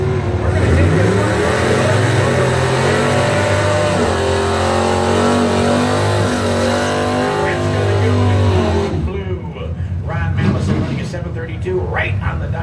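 A 1984 Ford Mustang drag race car, the Code Blue, launching down the strip with a loud, sustained engine roar that climbs in pitch before fading, with an announcer's voice over it.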